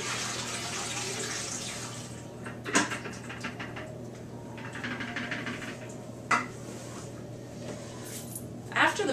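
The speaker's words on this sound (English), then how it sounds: "we're simply going to pour the permawash down the drain" Permawash film rinse poured down a sink drain during darkroom film developing, a continuous soft splashing flow of liquid with a few sharp knocks and clinks of containers.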